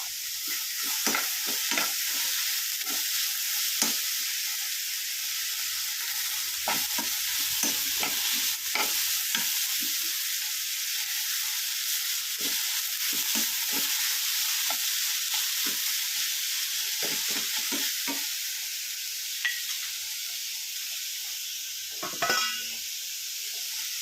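Sliced drumstick and onion stir-fry for a Kerala thoran sizzle steadily in a hot pan, with the spoon's irregular scraping stirs breaking through a continuous close hiss; no voices.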